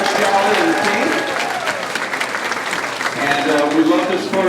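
A high school crowd at a marching band ice cream social applauds and cheers for the football coach and team, a loud continuous clapping that stays strong for several seconds before easing slightly.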